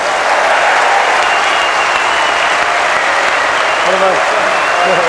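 Steady applause from a large audience at a football awards event, welcoming a footballer to the stage, sustained and dense throughout with crowd noise and some talk mixed in.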